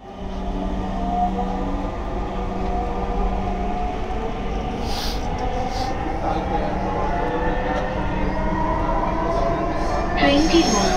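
A metro train rumbles into a station, a steady loud low drone of wheels and motors with a few brief higher squeals, continuous throughout with faint crowd noise around.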